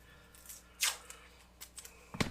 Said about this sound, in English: take a little piece of tape